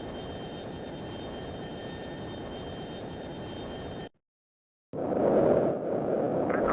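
A missile fires from a fighter jet in the F-22 Total Air War flight game, a steady roar of jet engine noise that cuts to silence, then returns as a louder, brighter rushing whoosh.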